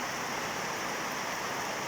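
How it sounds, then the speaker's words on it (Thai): Heavy rain falling in Vang Vieng, Laos, a steady broadband hiss with no breaks, moderately loud and continuous, with no voices. "เมืองวังเวียงเนาะ ฝนตกหนักเลยเนาะ"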